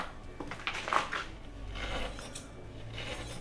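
Scissors snip through surfboard glassing cloth at the lap along the deck in a few close, crisp, repeated cuts, with faint mechanical rasping between them.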